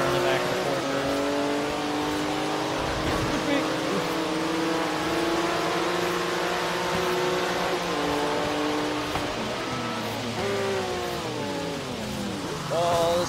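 Porsche 911 Turbo S in the Forza racing game, its engine droning steadily with rising and falling rev sweeps and gear shifts, sometimes on a wet track, heard throughout with a voice talking over it.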